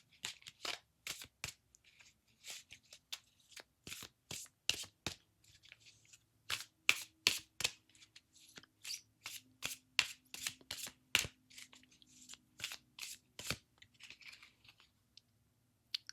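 Tarot cards shuffled in a close, quiet room as a series of sharp slapping and riffling bursts in an uneven rhythm, with short gaps between and no voices.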